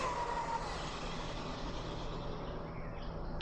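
A fast RC car running at full throttle on asphalt, a constant high-pitched electric motor whine that holds steady and then slowly fades as it moves away.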